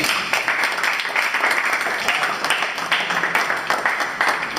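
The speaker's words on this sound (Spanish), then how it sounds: "un aplauso para Eduardo" Clapping from a general chemistry class audience at ESPOL, a lively burst of many hands in quick, uneven rhythm that holds strongly for a few seconds.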